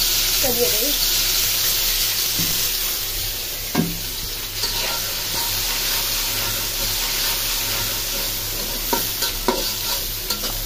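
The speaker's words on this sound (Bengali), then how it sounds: "তেলটা গরম হয়ে গেছে, পেঁয়াজটা দিয়ে দিই" Onion sizzles in hot oil in a wok, a loud continuous frying hiss with occasional scraping stirs, and a voice speaks briefly.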